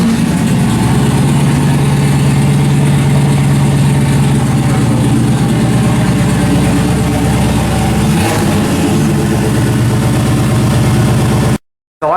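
A turbocharged 98-02 F-body Camaro engine runs at a loud, steady, close idle with a deep rumble and a brief swell partway through before cutting off abruptly near the end.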